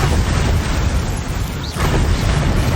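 Confringo fire spell explosions from the Hogwarts Legacy video game, a dense run of loud booming bursts that continues steadily without pause, with no voices heard in this stretch.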